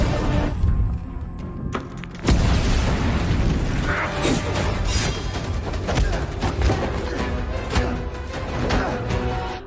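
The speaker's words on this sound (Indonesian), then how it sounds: "Namun Arif langsung melemparkan granat, membuat Fadlan dan anak buahnya kocar-kacir." A grenade explosion in an action film sounds as a sudden loud boom followed by rumbling debris and scattered crashes, set among dense, chaotic combat sound effects.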